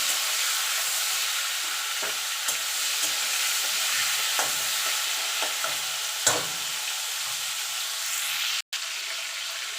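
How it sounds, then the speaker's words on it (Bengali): Prawns fry in hot oil with a steady, close sizzle throughout, broken by a few soft stirring scrapes and one brief louder clatter near the end. "এবার চিংড়ি মাছটা ভেজে নেব"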